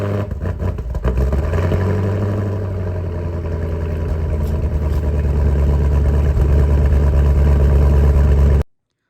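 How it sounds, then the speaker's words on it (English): A 2021 Camaro SS 1LE V8 fires up from a cold start, a sharp crank and loud bark settling into a deep, steady, rumbling high idle that holds until it cuts off abruptly. "let's do a cold start"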